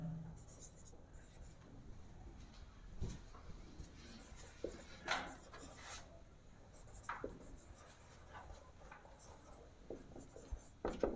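Pen strokes scratch on paper while a branch account is drawn up in account books. The scratching is quiet, close and intermittent, with occasional sharper strokes and taps.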